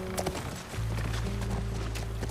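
Horse hooves in The Last of Us Part 1 clip-clop in an irregular sequence of sharp knocks over a steady low hum, with a faint snort near the start.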